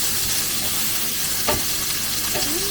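Onions and tomatoes sauté in a pan with a continuous close sizzle and a few stirring scrapes, without talking.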